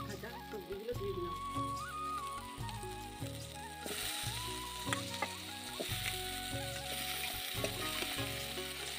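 Chopped fried vegetables for pui shak chhyachra (Malabar spinach) sizzle in a pan with spice paste and chili powder, a steady frying hiss with stirring, partly masked by rhythmic background music.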